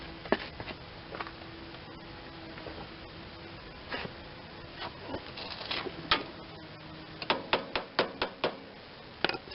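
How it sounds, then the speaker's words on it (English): A small hammer taps a part on a Tecumseh 10 hp engine of an MTD snowblower, giving sharp, close metallic knocks, sparse at first and then quicker and louder in an irregular cluster toward the end. "Let me get a little hammer and tap that down just to here."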